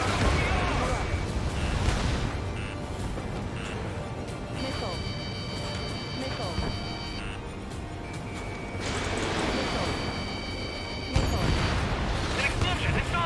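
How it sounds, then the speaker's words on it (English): Explosions and heavy booms in the combat flight video game Ace Combat 7, rumbling loudly through a busy game soundtrack with tonal electronic tones, one sharp blast near the end. "An explosion inside."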